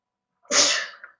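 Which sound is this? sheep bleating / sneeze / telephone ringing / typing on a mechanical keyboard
sneeze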